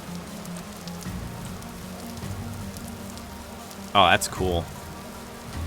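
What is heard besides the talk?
rain falling in the video game Vintage Story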